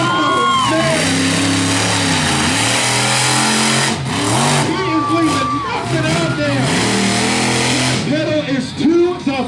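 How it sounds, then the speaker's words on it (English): A monster truck engine revs hard at a freestyle show, with loud repeated revving surges rising and falling over an arena crowd, under an announcer's amplified voice talking throughout. "I'm not sure what the world record is in monster truck jumping"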